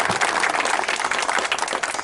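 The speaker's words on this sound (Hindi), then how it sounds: "मैं आपसे निवेदन करता हूं कि जोरदार ताली बजा के आपका स्वागत करें" A village crowd at a political gathering in Tapakarwada gives loud, steady applause to welcome guests, dense clapping filling the whole stretch without pause.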